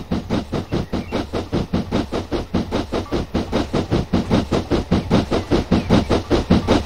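Steam locomotive in the Train Simulator 2013 game on the Bath Green Park to Wincanton route, chuffing loudly and steadily in a fast, even rhythm of exhaust beats with a constant hiss under them.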